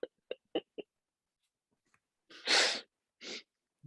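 A sneeze bursts out after a few short soft breaths, followed by a second, smaller sneeze, both fairly close, loud and alone without any talking.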